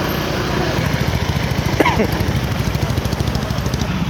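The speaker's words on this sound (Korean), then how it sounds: "오토바이들 또막 들어오는구나" Small motorcycle engines putter and buzz close by as bikes roll into a busy night market street, a steady choppy drone with a brief rising whine partway through.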